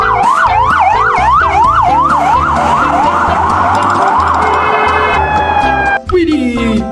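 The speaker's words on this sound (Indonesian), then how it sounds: "dan ini ada mobil ambulan" A toy ambulance gives off a loud electronic siren, a rapid wailing yelp that repeats steadily before switching to a steadier tone and then dropping off near the end, alone with no talk.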